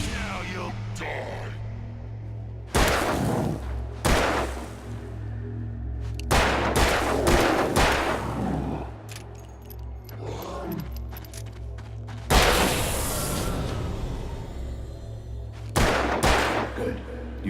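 Gunshots from a handgun in the horror video game Alan Wake, a few loud sharp bursts spaced apart over a low droning ambient background with occasional metallic rattles.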